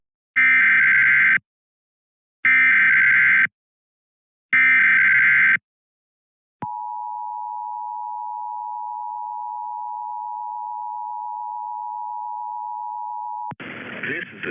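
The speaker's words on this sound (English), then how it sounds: "this has only been a test of the National Weather Service's radio alarm tone" NOAA Weather Radio alarm test from the National Weather Service: three evenly spaced beeping bursts, then a long steady loud alarm tone lasting about seven seconds, ending as a voice begins.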